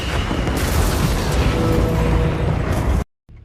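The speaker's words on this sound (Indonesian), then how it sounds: "beberapa meriam akhirnya berhasil mengenai kapal USS Samson hingga membuat kapal itu meledak dan hancur seketika" A ship in an action film blows apart under cannon fire, a dense, loud roar of explosion and crackling debris that holds for about three seconds and then cuts off abruptly.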